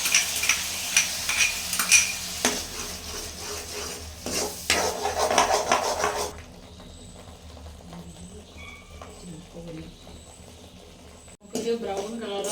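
Ground onion paste frying in hot oil for paneer butter masala, stirred with a utensil: dense, loud sizzling and scraping for about six seconds, then a quieter, steady simmer with occasional faint clinks.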